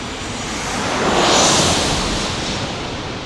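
A passenger airliner on the San Jose flight comes in to land nearby, a broad roaring rush of engine and wind noise swelling to a peak and fading over a few seconds.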